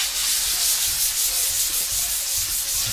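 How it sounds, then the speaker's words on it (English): Fresh sandpaper rubs steadily back and forth on a part from a 1979 AMF Harley Sportster motorcycle, giving a continuous close, hissing scrape with a gentle rhythmic pulse and no speech. "sandpaper."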